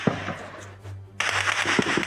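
Gunfire during an armed attack in Cauca, Colombia, recorded on a phone: sharp, loud bursts and cracks crowd the second half after a quieter stretch with low rumble and scattered pops.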